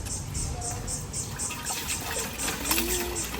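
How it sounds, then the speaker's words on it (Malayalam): Sea water pours into a clay pan set over a wood and waste fire for making salt, a continuous splashing, trickling flow with faint pulsing hiss throughout, close and moderately loud. "വെള്ളം ഒഴിക്കുന്നു ഗൈസ്"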